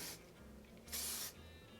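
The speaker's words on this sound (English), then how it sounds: "Spray with heat protectant spray." Two short hissing bursts of heat protectant spray from a spray bottle, one brief at the start and a longer, louder spritz in the middle, over quiet room tone.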